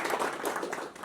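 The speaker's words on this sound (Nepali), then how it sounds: "हामी उहाँहरूलाई एकदम ताली बजाएर स्वागत गर्छौँ।" A church congregation at a Christmas celebration claps in welcome, a brief burst of dense applause close by with no voices over it.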